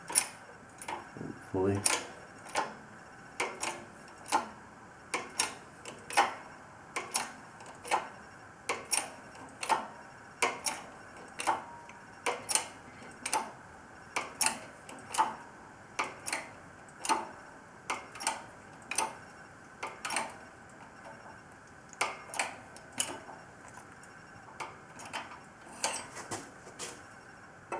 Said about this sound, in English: Pressing in the bushing for the anti-roll bar that connects to the bottom link.